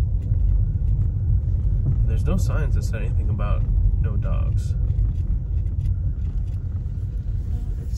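A car rumbles steadily while driving slowly off-road, a constant low drone throughout with a person talking over it.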